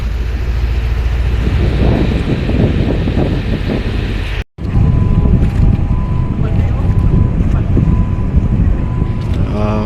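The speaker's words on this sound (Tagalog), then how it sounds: "So medyo kusog-kusog ang hangin mga kabangka." Strong wind gusts at sea aboard the MV Zhe Hai 520 lying at anchorage off Cagdianao, Dinagat Island, roaring steadily with microphone buffeting; the sound cuts out briefly midway, then resumes just as loud.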